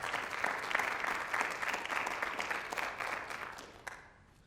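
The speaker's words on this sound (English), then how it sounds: "So if we can give them a round of applause, I would really appreciate it." Applause fills a State of Schools Address as the audience claps steadily, a broad, moderately loud wash of many hands that gradually thins and fades out toward the end.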